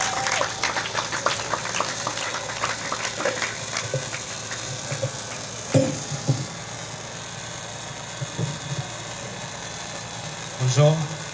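Applause from an audience, a dense patter of clapping that thins out over several seconds, with a few voices and scattered noises after.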